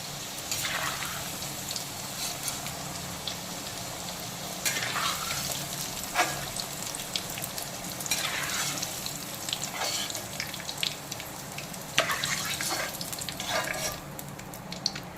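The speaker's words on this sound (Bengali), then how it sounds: "আলুগুলোকে আমি এখন তেল থেকে যতটা সম্ভব তেল ঝরিয়ে তুলে নেব একটা ঝাঁঝরি হাতার সাহায্যে" Fried potatoes are lifted out of hot oil with a slotted spoon while the oil keeps sizzling at a moderate level. Repeated scraping and clinking strokes and bursts of crackle recur every few seconds.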